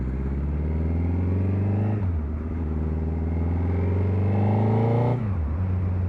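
A motorcycle engine revs up twice, rising in pitch and dropping back, loud and close with a throaty growl.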